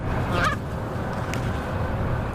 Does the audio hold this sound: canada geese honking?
yes